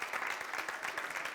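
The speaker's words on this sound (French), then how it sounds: "Merci de faire des applaudissements pour lui." A short burst of dense audience applause at a French-language TV show taping, steady and full with no talk over it.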